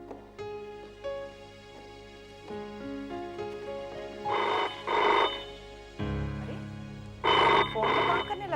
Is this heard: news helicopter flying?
no